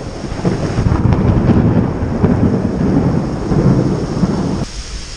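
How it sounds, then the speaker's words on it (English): Heavy rumbling thunder from nearby lightning rolls on continuously, loud and close, mixed with rain and wind noise on the microphone, out on the water near a bridge in Oklahoma or Arkansas. "The lightning flashes have almost no gap between flash to bang."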